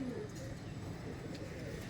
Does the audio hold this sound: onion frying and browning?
no